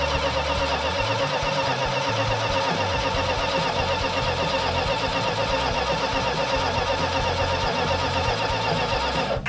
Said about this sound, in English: we've got a tappet that's making noise, or some kind of metallic noise that sounds like a tappet